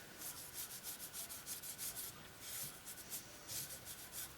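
Close, quiet rubbing strokes repeat in a steady back-and-forth rhythm, wood shavings burnishing sanding sealer on a wooden jewelry box, a soft scratchy swish with no talking.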